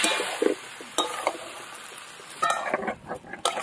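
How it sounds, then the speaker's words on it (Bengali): Tomato, cumin, dried chilli, ginger paste and coriander powder stir-fried together in a pan for fish curry, soft sizzling under sharp clinks and scrapes of a spatula against the pan, close and fairly quiet. "ধনে গুঁড়ো দিয়ে এবার কষিয়ে নেব সব কিছুর সাথে"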